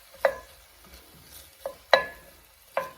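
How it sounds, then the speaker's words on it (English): A few short sizzling bursts of onions in a pan, four quick hisses spaced unevenly against a quiet background. "that little sizzle sound we wanted"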